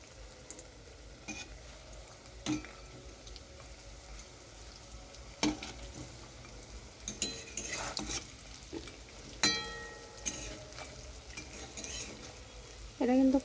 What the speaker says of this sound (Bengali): এটা কিন্তু খুব কম তেলেই ভাজাটা হয়ে যায়।